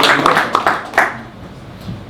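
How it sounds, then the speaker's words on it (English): Audience applause welcoming a speaker at a tech talk, a short burst of close clapping that fades quickly within about two seconds. "a huge round of applause for him"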